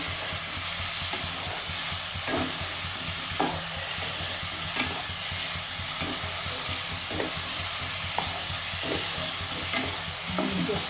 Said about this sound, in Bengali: খুব ভালো করে কষাতে হয় তাহলে মাছের ঝোলের টেস্ট একদম ভালো হয়